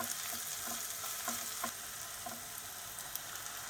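Onions sauté over high heat in a pan, giving a steady close sizzle and crackle, with occasional light stirring scrapes and no talking.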